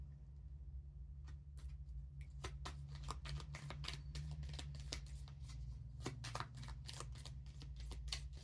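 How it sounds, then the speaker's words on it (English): Tarot cards are shuffled and pulled in a quiet room, a steady sequence of soft crisp flicks and snaps under a low background hum, close by and with no talking. "let's pull 2 more cards for you guys"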